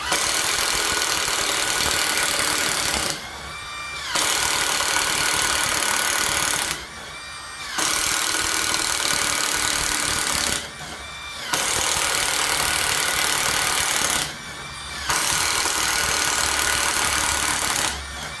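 A Greenworks 24V drill bores five 1/4 inch holes: five loud, close bursts of steady motor whine and grinding, each several seconds long, separated by short pauses with no talk.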